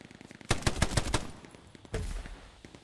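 Hell Let Loose machine-gun fire crackles in a rapid close burst of about eight shots, then a second, shorter burst follows after a pause, loud and sharp.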